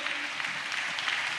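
A church congregation applauds during a sermon, a soft, diffuse wash of many hands clapping at a distance.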